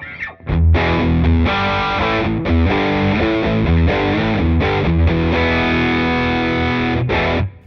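A loud, crunchy electric guitar through a Boss MT-2 Metal Zone pedal modded into an overdrive plays a chugging riff of sustained chords, close and full, with no voices.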